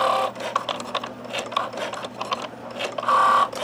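A Cricut Joy cutting machine cuts slits in a birthday card, giving a close, busy run of mechanical whirring and clicking with short motor buzzes and a steadier hum near the end.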